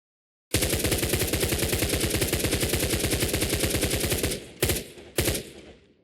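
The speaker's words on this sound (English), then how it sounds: "once we fire our full magazine" A video game rifle empties its full magazine in one long burst of rapid, evenly spaced shots, loud and close, followed by two short separate mechanical bursts as the firing stops.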